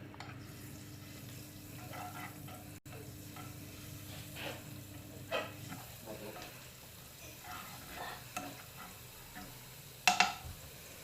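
Garlic is stirred in a hot pan for a Turkish alinazik kebab, a soft continuous sizzle with scattered scraping strokes and a sharper clatter near the end, heard close and fairly quiet without speech.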